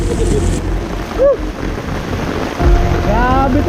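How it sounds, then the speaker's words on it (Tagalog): Heavy rain and rushing floodwater in a residential neighborhood make a steady, dense roar throughout, with a couple of brief voice sounds rising over it. "Dahil sa lakas ng ulan at dagsa ng tubig"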